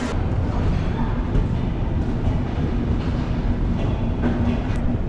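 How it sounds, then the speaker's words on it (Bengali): Steady rumbling rail noise with a continuous low roar and faint rhythmic clatter, close and loud throughout, as the Dhumketu Express passenger train departs Dhaka for Rajshahi. "অবশেষে কিন্তু আমাদের এই ট্রেনটি কিন্তু এখন ছেড়ে দেয়"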